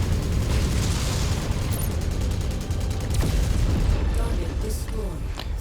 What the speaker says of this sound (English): I'm still getting shot in the back repeatedly, though.